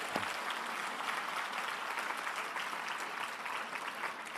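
A seminar audience applauds in a steady, dense wash of clapping that holds at an even, moderate level throughout, with no individual claps standing out and no talk over it.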